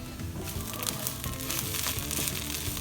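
Panch phoran, garlic and chilies sizzle steadily in hot oil for saag bhaji, a dense, continuous crackle with brief louder pops, close up with no voices.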